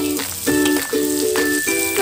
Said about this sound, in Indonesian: bumbu yang sudah saya haluskan saya tumis